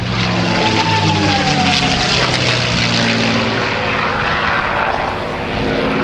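A liquid-cooled propeller aircraft engine roars loud and steady at a naval air station airshow, a sustained droning growl with a faint rising whine.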